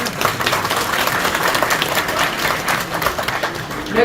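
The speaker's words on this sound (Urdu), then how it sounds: "آپ اپنے آپ کے لیے بہت زبردست طریقے سے تالیاں بجائیں" A gathered audience at a speech event applauds vigorously. The clapping is dense and fairly loud, with many individual claps standing out, and it continues steadily for a few seconds.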